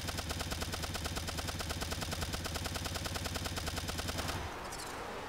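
Rapid auto-aim gunfire in the game Turnip Boy Robs a Bank, a dense, loud machine-gun stream of shots that stops abruptly near the end, leaving quieter game sounds.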